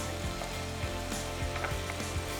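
A spoon stirs boiled sweet corn and chopped vegetables, including capsicum, in a sizzling pan for pink sauce pasta. Regular scraping clicks repeat over a soft frying hiss.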